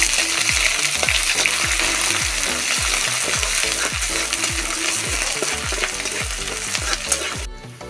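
Ginger paste sizzles loudly in hot oil in a pan while a spatula stirs it in steady, repeated scraping strokes, close and continuous with no talking.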